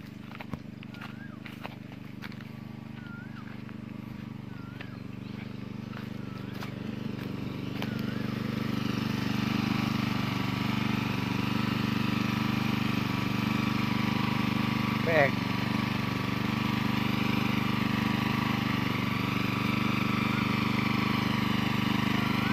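A small engine drives a water pump on a rural farm garden, starting with a few clicks and knocks and then building into a steady, loud, continuous drone that runs alone for the rest of the clip.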